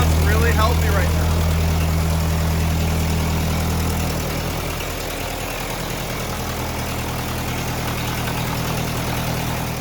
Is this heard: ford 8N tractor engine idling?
yes